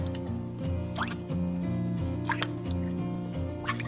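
Spoonfuls of dark Chinese aromatic vinegar drip and trickle into a bowl of sauce mixture, small close liquid plinks over a low steady hum.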